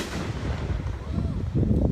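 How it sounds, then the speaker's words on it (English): Fourth of July fireworks over Big Birch Lake in Grey Eagle, Minnesota, heard as a continuous deep rumble of distant booms rolling across the water, steady and fairly loud throughout. "watching some of the fireworks down here."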